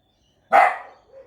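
One loud, close bark from a house dog, sharp and short with a quick fade, heard alone in an otherwise quiet room.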